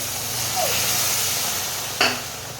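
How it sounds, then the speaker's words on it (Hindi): Sizzling and hissing from a pan of golden-brown roasted moong dal as a bowl of milk is poured in for mung dal barfi, with a steady close fry and a sharper burst of sizzle near the end. "अब इसी वक्त हम इसमें ये 1 कटोरी दूध डालेंगे"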